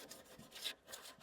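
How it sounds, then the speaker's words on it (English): Sandpaper of 120 grit rubbed along the curves of a wooden candle holder. The strokes are short, repeated and close, with a dry rasping texture and no talking. "I've been running through some of the curves with this 120 grit sandpaper just to keep it cleaned up."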